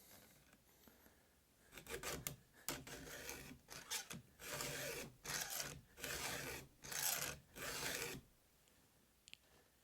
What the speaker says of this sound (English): it's okay to drag your file back through there, but just don't put any pressure on it